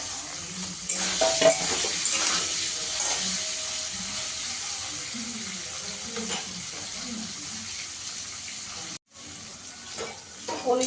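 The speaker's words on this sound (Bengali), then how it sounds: "পনিরটাকে একটু হালকা করে ভেজে নেবো।" Paneer frying lightly in oil in a pan after turmeric, Kashmiri chilli powder and salt were added: a steady, loud, close sizzle with occasional stirring scrapes that continues almost without a break and stops briefly near the end.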